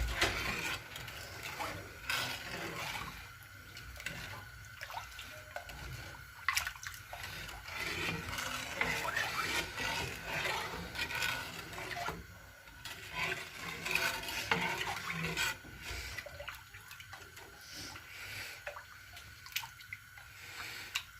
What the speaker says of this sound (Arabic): حركه، ضل حركه حتى يذوب السكر.